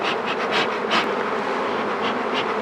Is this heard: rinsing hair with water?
no